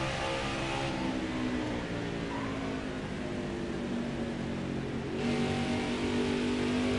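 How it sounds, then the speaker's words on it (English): A race truck's engine revs steadily in a racing video game at Gateway, a continuous mid-pitched drone with a rasping, lawnmower-like tone that rises and shifts slightly in pitch, loud and alone throughout. "does my engine sound like a lawnmower?"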